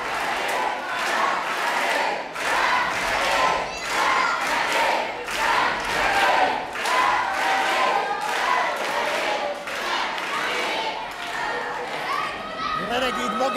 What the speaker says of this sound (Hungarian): Magába szívta a közönség buzdítását